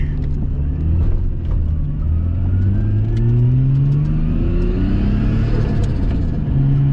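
A tuned, turbocharged Nissan R33 Skyline engine revs and accelerates hard, loud and close, its pitch climbing through repeated rising sweeps with a shift partway through, and no speech.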